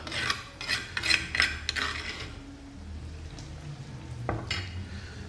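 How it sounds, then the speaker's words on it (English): Ginger and garlic mix tipped into a frying okro stew, a burst of rough scraping and crackling sizzle up close that settles into a faint simmer with a single sharp knock near the end. "now I'm gonna add some of the ginger and the garlic mix to it"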